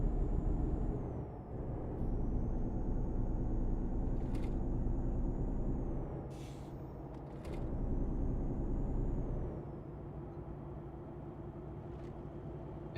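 A truck in Euro Truck Simulator 2 driving toward the highway at 90 km/h, with a steady engine drone, repeated sharp hissing bursts from the air brakes, and a long whine that rises and falls. No talk.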